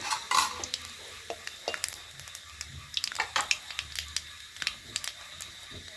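Cinnamon and black cumin hit hot oil in a pan, giving a crackling sizzle with scattered pops and the scrape and clink of a utensil stirring, close and clear, no talking.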